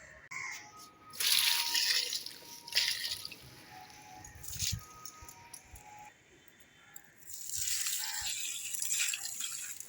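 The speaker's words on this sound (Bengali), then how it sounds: "জলটা দিয়ে নিই" Water poured and splashing in a home kitchen while cooking, arriving in a few gushing bursts separated by quieter dripping gaps, close and moderately loud.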